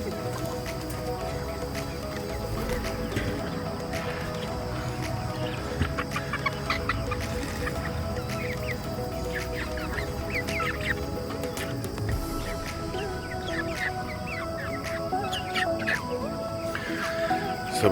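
A backyard homestead flock of chickens in hot Texas weather clucks and murmurs continuously at moderate distance, with scattered louder squawks over a low outdoor background.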